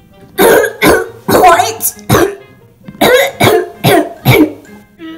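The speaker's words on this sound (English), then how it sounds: "Please stop coughing." A run of harsh, close coughs in quick bursts, about eight or nine, with a short spoken question mixed in.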